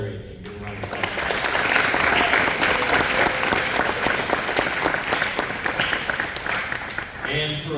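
Audience at a high school football and cheer awards ceremony claps in sustained applause, a dense wash of many hands that swells, holds steady for several seconds, then thins out, with a voice briefly heard at the start.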